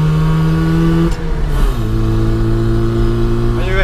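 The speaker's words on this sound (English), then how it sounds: "back with the test drive of the 30th anniversary Mini. It's a noisy one." A 1989 Rover Mini 30th Anniversary Edition on snow tires drives on a test run, its engine droning loud and close from inside the cabin and shifting pitch as it changes speed, with people talking over it.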